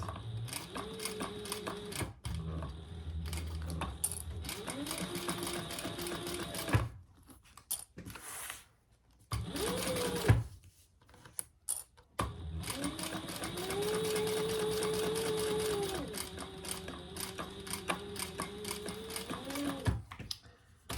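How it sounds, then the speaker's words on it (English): A sewing machine stitches the outer waterproof canvas of a fabric wallet, running in several steady mechanical bursts separated by short pauses and handling noise. "I am stitching this from the outer fabric"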